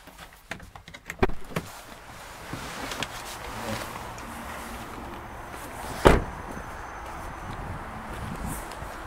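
Electric folding door mirrors on a Vauxhall Mokka whirring back out to the unfolded position, a faint motor hum inside a parked car, with a sharp clunk as they lock into place.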